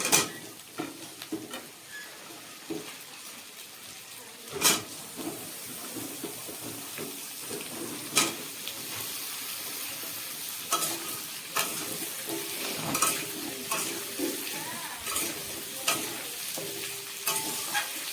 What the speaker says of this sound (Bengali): আলু আর কোয়াশগুলোকে বেশ কিছুক্ষণ এইভাবে নাড়াচাড়া করে নেব